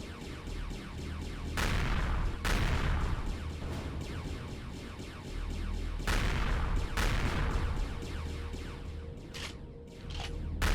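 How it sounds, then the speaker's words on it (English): Artillery, plasma and laser cannon fire in a sci-fi multiplayer battle game, loud overlapping bursts and booms layered over a steady rumble, with sharp blasts repeating every few seconds throughout. "The artilleries aren't so much of a threat. As you can see, they miss."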